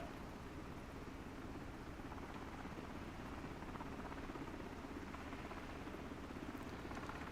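An HH-65B helicopter hovers in Microsoft Flight Simulator 2024, producing a steady, even rotor and turbine roar that stays constant and fairly quiet throughout, without any talk.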